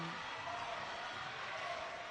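A vocal crowd at an under-20 netball match between the Sutherland Stingrays and ERNA Hawks, giving a steady, dense wash of cheering and chatter that is only briefly audible.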